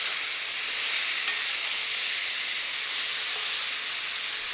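Meat sizzles in a cast iron pan, a steady bright hiss that holds evenly throughout, close and moderately loud with no talking.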